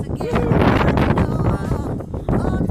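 Strong gusting wind on Grays Peak, 14,278 feet, roars across the microphone in a continuous, buffeting blast, with a voice faintly audible beneath it.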